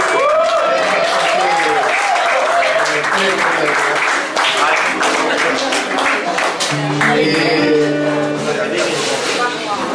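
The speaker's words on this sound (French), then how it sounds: "que je vous demande d'applaudir" Audience applause at a French public event, dense clapping that carries through the whole stretch while voices and music-like tones sound over it.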